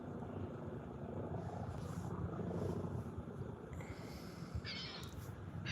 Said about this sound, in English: Oh no, it's an old little plane.